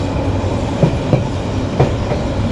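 A long passenger train, the Saikat Express, runs from Chattogram to Cox's Bazar, heard from inside with a steady loud rumble and a few distinct clickety-clack thumps from wheels crossing rail joints.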